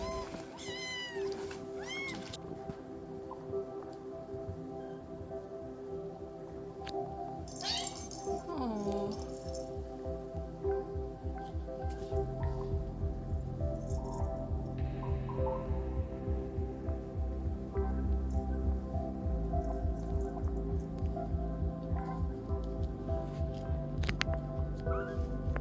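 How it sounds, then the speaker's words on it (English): Five rescue kittens abandoned in a box eat food while one still drinks milk, giving repeated high meows early on over a steady low throbbing hum and rhythmic feeding noises, close and fairly quiet. "So one of the babies is still drinking milk, and the other 4 are eating food."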